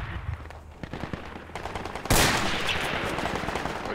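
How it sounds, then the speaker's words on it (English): Gunfire in the Project Reality video game: scattered shots first, then a sharp loud burst that breaks into sustained rapid automatic fire. The firing continues without letup to the end. "I'm shooting the driver, obviously."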